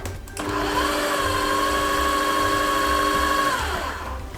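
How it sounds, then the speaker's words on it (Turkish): A food processor runs briefly to blend bread dough ingredients, a steady motor whine starting abruptly and holding for about three seconds before winding down, close and loud with no talk. "Hepsini harmanlamak için şöyle bir tur çeviriyorum."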